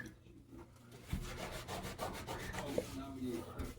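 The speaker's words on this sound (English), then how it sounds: "we're gonna get rid of all this gunk and grime in here" Gunk and grime are scrubbed off kitchen surfaces in repeated rubbing strokes, a close, rough, rhythmic scraping with occasional knocks, faint and with no talk.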